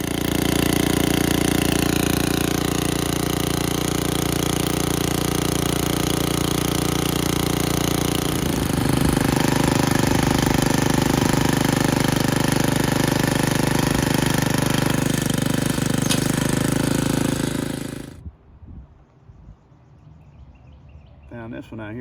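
A lawn mower engine runs loud and steady while grass is being mowed, its drone holding for about eighteen seconds before cutting off abruptly, leaving faint outdoor background.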